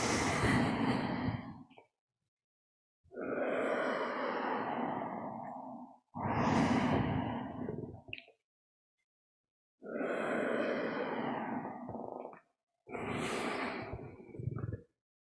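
Slow, deep qigong breathing, five long audible breaths in and out, each lasting a couple of seconds and separated by short silences, close and fairly quiet.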